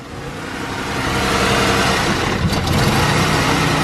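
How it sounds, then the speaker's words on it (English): A 2014 Jeep Wrangler Unlimited engine idles roughly with a slight tick, a steady close mechanical rumble that swells a little after the first second. "And a little bit of a rough idle,"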